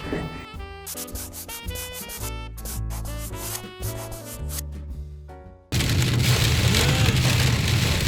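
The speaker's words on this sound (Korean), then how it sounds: "비 엄청 많이 와." Heavy rain pours down in a dense, loud, steady roar after music fades out, the downpour filling the last few seconds close by.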